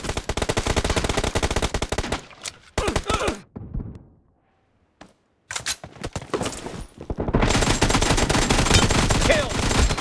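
Pistol and automatic gunfire in the mobile game PUBG Mobile, with rapid loud bursts of shots broken by a brief quiet pause and then a long sustained volley.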